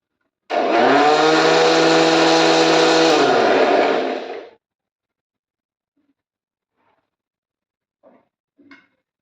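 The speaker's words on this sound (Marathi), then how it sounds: "आता मिक्सरमध्ये घालते आणि वाटून घेते" A kitchen mixer grinder grinding chutney whirs loudly for about four seconds, then stops abruptly, followed by silence and a couple of faint clinks.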